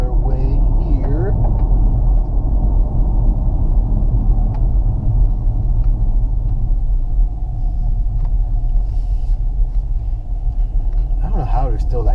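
A 2019 Chevy Camaro SS driving in sport mode with traction control on gives a loud, steady low engine rumble and road drone that holds for the whole stretch, heard from inside the car.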